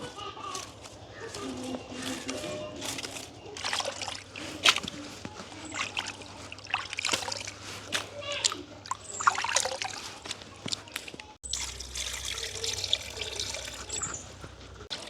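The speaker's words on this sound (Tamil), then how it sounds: "அப்படியே நல்ல வடிவாக ரெண்டு மூணு தண்ணியில் கழுவி எடுப்போம்" Fish being washed by hand in two or three changes of water during village cooking, with steady splashing, trickling and sloshing close by and a brief pause near the end.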